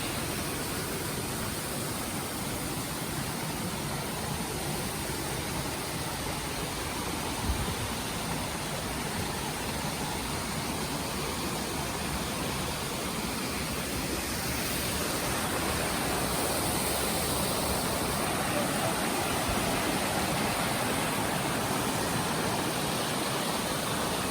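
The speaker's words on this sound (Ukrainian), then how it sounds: "От Ми підійшли до водоспаду Шипі, тут реально дуже сильний звук води." Shypit cascade waterfall, about 14 metres high, roaring with a dense, continuous rush of falling water that stays loud and unbroken throughout, with no voices.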